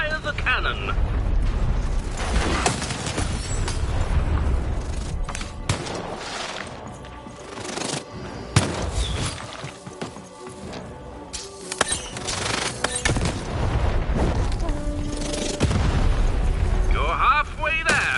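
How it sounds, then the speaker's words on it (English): Cannon blasts from the Lost in Random video game, several heavy booms landing amid a dense bed of game music and effects that stays loud and busy throughout. "Shoot the button to fire the cannon."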